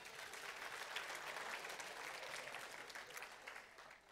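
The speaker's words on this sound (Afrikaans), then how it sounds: "Kom ons gee vir 'n lekker hande klap" A church congregation gives a round of applause during an online Afrikaans service, soft, steady clapping from a group that holds evenly and then begins to fade at the end.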